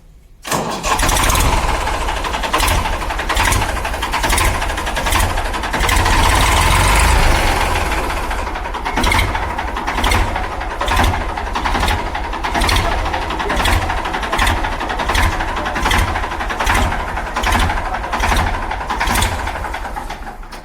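A 1991-model tractor engine cranks and catches, then settles into a loud, close diesel idle with a steady rhythmic knock that continues for many seconds.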